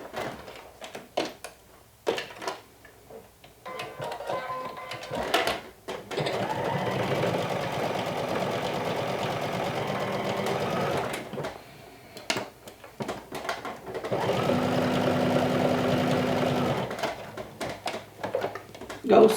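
A sewing machine stitches a seam on a lumberjack shirt in bursts of rapid mechanical whirring, separated by short pauses and quieter handling noises.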